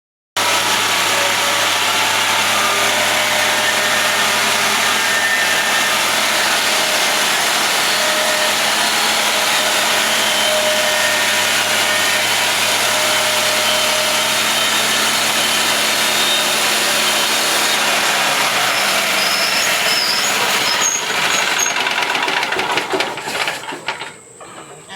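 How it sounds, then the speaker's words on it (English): A golf cart sawmill cuts through a wood log, a loud, continuous engine drone with a steady mechanical whine that holds for about twenty seconds before winding down and quieting at the end. "you can see it's golf cart sawmills still cutting like butter"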